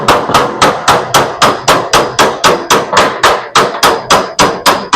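Rivets hammered against a bucking dolly on an aluminum fuel cell tank for a Nova, producing a fast, even series of loud, sharp metallic blows, about three per second, close up with no talking.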